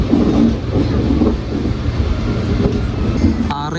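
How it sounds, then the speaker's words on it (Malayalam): Madurai Guruvayur Express train passing close by: a loud, continuous rumble with broadband roar that holds steady throughout, with no voices heard. "നമ്മുടെ മധുരൈ ഗുരുവായൂർ എക്സ്പ്രസ് ആണ് കേട്ടോ."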